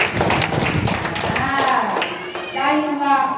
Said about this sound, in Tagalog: Malakas na palakpak sa atin.